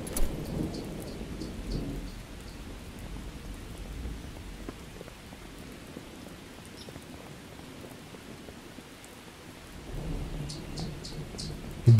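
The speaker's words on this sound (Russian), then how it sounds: "Мама, это гроза." Rolling thunder rumbles low and distant with steady rain pattering in a video game thunderstorm, swelling at the start and again near the end.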